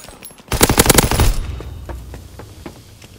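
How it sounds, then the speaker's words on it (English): Rapid burst of automatic gunfire from an enemy aircraft's strafing run in a WW2 video game, a loud close volley lasting about a second before fading into scattered distant shots and rumble. "Enemy strafing run inbound"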